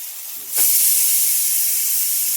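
A pressure cooker whistle bursts out as a loud, sustained hiss of venting steam on a home stove, starting abruptly and holding steady to the end while cooking a vegetable dish with onion and tomato.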